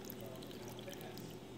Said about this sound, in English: I'm going to go ahead and pour the brine over the top now.